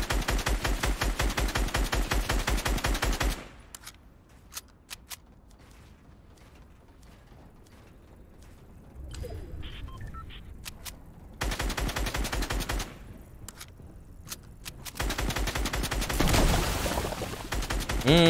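Rapid automatic gunfire in the game Fortnite, loud close bursts of shots in several volleys, separated by quieter stretches with scattered clicks and mechanical sounds.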